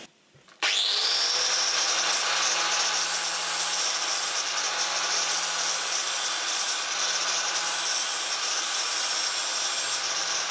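A steering part for a Super 7 Locost kit car being ground down with a power grinder, a steady loud abrasive whine that starts abruptly and runs continuously at close range with no talking.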